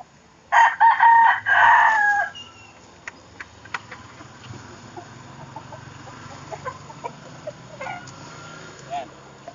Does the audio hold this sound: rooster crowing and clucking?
yes